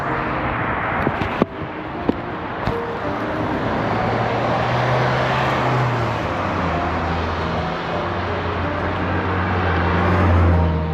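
Continuous roar of road traffic passing close by, a broad rumbling wash with a few sharp knocks early on and no speech.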